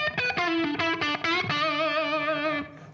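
Electric guitar played through a short room reverb effect pedal, a quick run of picked notes settling into a sustained, wavering chord, close and loud with a small-room ambience and no talking.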